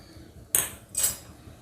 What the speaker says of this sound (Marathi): आता मी लसूण ठेचून घेत आहे